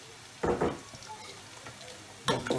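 Sliced large onion going into hot oil for pulao, with a couple of sharp sizzling bursts and clatters as it drops and is stirred, then a quieter crackle between them.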